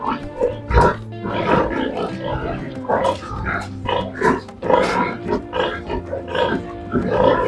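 Pigs on a Nigerian pig farm grunt and snort in a busy, overlapping stream, close by and fairly loud, with no pause across the whole stretch.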